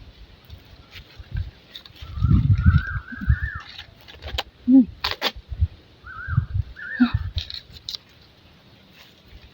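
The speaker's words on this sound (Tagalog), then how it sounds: "Ang lalaki ng ibon dito mga kamusang." Large birds, called kamusang locally, give short honking calls in a few bursts from the surrounding plants, with rustling, footsteps and people talking nearby outdoors.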